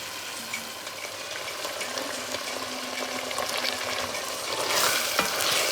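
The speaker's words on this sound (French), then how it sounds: "On va laisser mijoter encore 2 minutes en remuant notre viande et les oignons" Minced meat and onions simmer and crackle in a pan while being stirred, a soft continuous sizzle with scattered scraping strokes that grows slightly louder toward the end, close and without talk.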